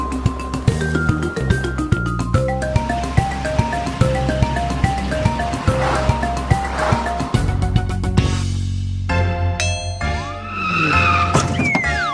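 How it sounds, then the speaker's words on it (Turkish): An orange cartoon car skids and flips over, with a rising squeal and clatter near the end over bouncy background music with a steady beat. "Turuncu araba ters döndü."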